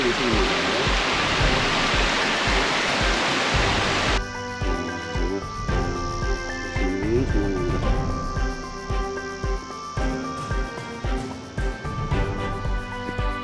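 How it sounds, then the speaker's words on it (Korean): Water of a mountain valley stream pours over a broad rock slab, a steady rushing wash that is loud and hissy at first, then continues beneath layered tonal background sounds. "커다란 안반 위로 흐르는 계곡물이 정말 시원하게 보이고요."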